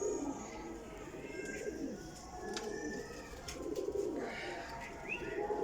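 Champion parwazi high-flying pigeons, including Teddy golden birds, coo softly and repeatedly in rolling low phrases, with a few faint chirps over a constant background hum.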